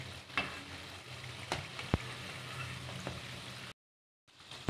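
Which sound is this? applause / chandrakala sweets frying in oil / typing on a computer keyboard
chandrakala sweets frying in oil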